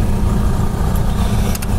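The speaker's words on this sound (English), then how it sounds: "I've got it running right now. The generator is powering everything in here." Onboard generator of a 1996 Coach House 192 TB Class B camper van runs steadily, a loud, even low engine drone heard from inside the coach with no talk over it.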